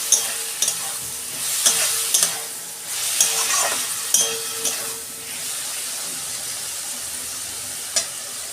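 Fish oil sizzling with eggplant in a frying pan, a steady loud fry hiss broken by repeated scrapes and clinks of a stirring utensil against the pan, fading to a calmer sizzle toward the end.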